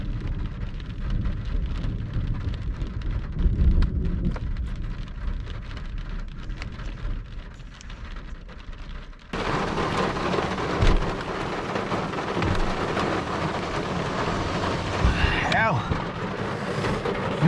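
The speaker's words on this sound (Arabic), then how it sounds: "بدأت تمطر." Steady rain falls in the open during a storm in northern Saudi Arabia, a broad constant wash with low thunder rumbling underneath, growing heavier and louder about halfway through, close and continuous.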